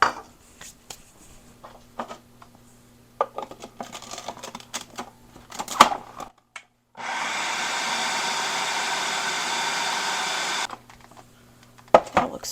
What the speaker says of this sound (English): now we're going to mix our cornstarch and flour with the remaining sugar that's in our food